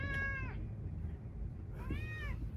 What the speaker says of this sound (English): My cat also won't shut up, but that's just a thing that you're gonna have to deal with